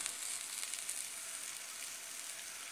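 Takoyaki batter fries in a hot griddle pan, giving a steady, even sizzle that stays at the same level throughout with no talking over it.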